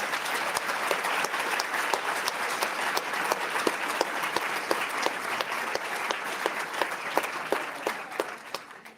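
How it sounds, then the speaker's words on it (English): Sustained crowd applause at a 2024 graduation ceremony, an even wash of many hands clapping that continues steadily and tapers slightly near the end, with no voices. "Please, a big round of applause to all streaming operators."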